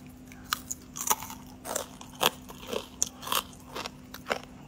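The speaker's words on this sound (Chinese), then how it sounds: "嘎嘣嘎嘣脆，哇，这个好吃。" Crisp, sharp crunches come at close range from biting homemade fried potato chips at a Shandong street snack stall in Weishan, Jining, with a dozen or so irregular bites and chews.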